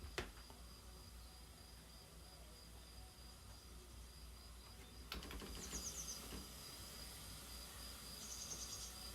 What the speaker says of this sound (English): So here's the cicadas and the birds that we started with.